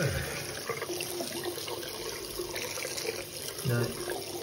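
A waterproof motorcycle-riding sock is dipped into water, giving a steady splashing and running-water wash, moderately loud and close, with a brief thump near the end.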